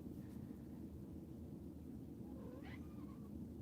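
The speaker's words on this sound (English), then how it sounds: "Hello, kitty cat. I have the kitty cat talking to me now." A house cat gives a single short meow, faint and distant, over a steady low rumble of outdoor background noise.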